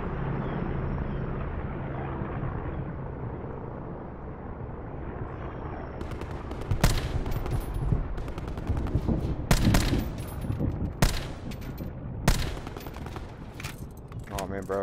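Call of Duty Black Ops 4 gunfire: a quieter, muffled start gives way to sharp, loud shots and bursts in the second half, scattered irregularly with game ambience beneath.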